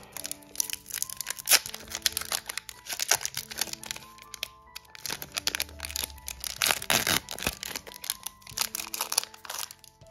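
A Pokémon card booster pack being torn open, with crisp crinkling and tearing of foil wrapper in irregular bursts, close and fairly quiet, separated by brief pauses.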